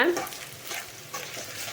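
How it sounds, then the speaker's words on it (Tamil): Steady hiss of soya chunks frying in hot oil, with scraping stirs of a spatula against the pan close up. "இந்த எல்லா சோயாவும் நான் போட்டு நான் பொரிக்க போகிறேன்"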